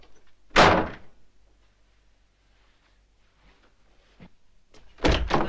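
Door slamming in a 1988 horror slasher film, a loud sharp bang followed by quiet stillness, a smaller knock, then a second heavy slam at the end.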